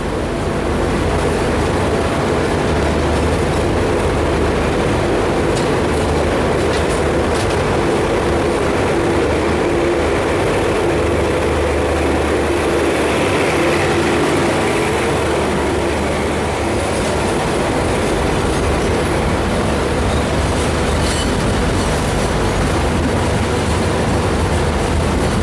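The Ijen Express passenger train rolls along steadily with a continuous loud rumble of wheels on rails heard from inside the coach, occasional faint squeals mixed in.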